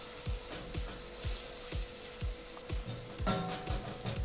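Curry powder fries in a pan with a steady, close sizzle, broken by regular scraping strokes of stirring about twice a second, with no voices.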